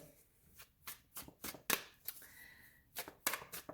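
Tarot cards being shuffled, handled and drawn close up, a quick series of soft riffling and snapping card sounds in uneven bursts, fairly quiet with no talk.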